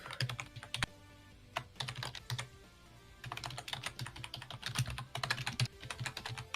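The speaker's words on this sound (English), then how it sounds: "you can hear me typing" Near, steady typing on a computer keyboard, keystrokes clattering in irregular runs with a brief lull midway before picking up again, alone without speech.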